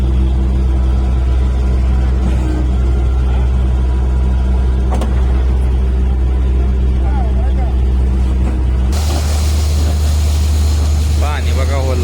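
A 5 hp borewell motor pump runs steadily, flushing out a bore, with a loud constant low engine-like drone throughout; the character shifts abruptly near the end as water noise rises, and a voice talks over it.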